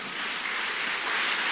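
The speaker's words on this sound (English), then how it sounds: "Give a mighty clap to the Lord." A church congregation claps for the Lord, a dense, steady wash of many hands applauding together, loud and continuous throughout.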